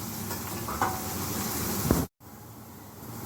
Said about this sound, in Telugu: ఆయిల్ కాగిపోయింది కదా ఇప్పుడు కోత పెట్టుకున్న ఉల్లిపాయ ముక్కలు వేస్తున్నాను